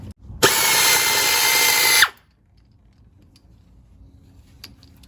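An air ratchet backing out spark plugs, one loud, close, steady whirring run of about two seconds, followed by near silence with a few faint clicks.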